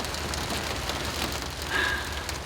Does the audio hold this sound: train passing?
no